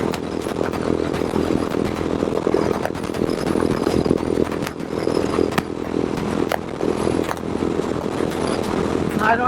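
A Honda CB350 motorcycle runs at top speed in fifth gear, its engine roaring loud and steady throughout with broadband wind rush, recorded close while riding.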